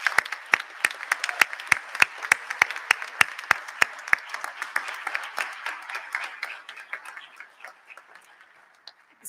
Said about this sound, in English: could we please give the entire Bromery family another round of applause?